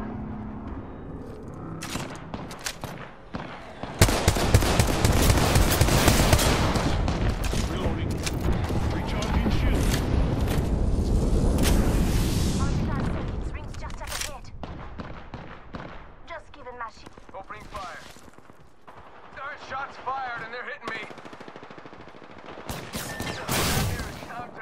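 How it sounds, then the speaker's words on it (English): A Gibraltar airstrike in Apex Legends pounds down as a heavy, loud barrage of blasts and rapid gunfire lasting several seconds. It then thins into scattered shots and game noise, and voices talk intermittently. "Signaling an airstrike."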